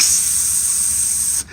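A voice imitates marijuana being sprayed: one loud, sustained hiss that cuts off sharply after about a second and a half.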